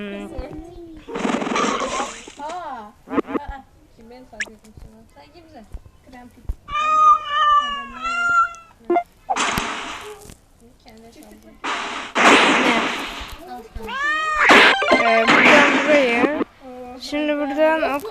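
Repeated cat meows in the video game Teeny Titans, some drawn-out and wavering, come in bursts amid bright game-like noises and clatter, fairly loud and close.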